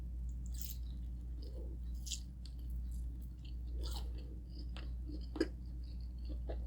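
Close, quiet chewing of a bite of rice and Spam sausage, with soft wet smacking and occasional crunches over a low steady hum.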